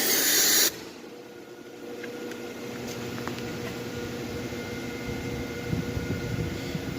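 A pressure washer sprays a 1996 Oldsmobile Cutlass Ciera, a steady broadband hiss running close and continuous after a brief louder burst at the start, with low rumble underneath.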